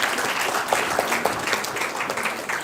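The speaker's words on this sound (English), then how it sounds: "Please give a huge round of applause" An audience at a women's summit applauds a guest invited on stage, producing a continuous, fairly even wash of clapping with no voices standing out.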